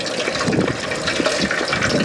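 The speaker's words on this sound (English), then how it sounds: "boil and pop, and that's the actual water and moisture that's in the turkey that's causing it to do that." A turkey frying in oil held at 350 degrees, with a loud, continuous bubbling and popping sizzle as moisture boils off, close by and steady with no talking.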